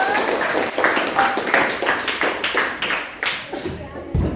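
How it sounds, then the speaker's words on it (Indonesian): Classroom applause for a student group about to present: a steady run of many hands clapping, close and fairly loud, fading toward the end, with faint voices mixed in. "beri tepuk tangan dulu untuk kelompok 1"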